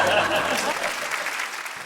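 Audience applause on a comedy stage show, a dense burst of clapping that starts loud and gradually thins out over a couple of seconds.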